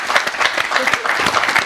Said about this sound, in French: on applaudissement, s'il vous plaît